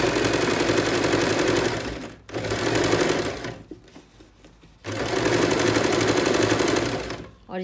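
A sewing machine stitches a double seam along a pant belt in loud, steady whirring bursts, running about two seconds, pausing, sputtering briefly, then running again for nearly three seconds.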